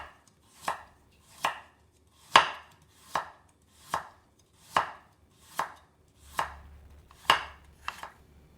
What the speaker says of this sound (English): First, you slice the carrot very thinly,